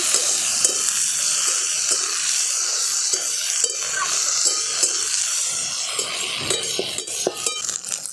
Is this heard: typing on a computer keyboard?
no